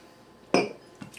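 Wine glasses touch in a toast: one clear, close clink followed by a fainter second tap, with no voices.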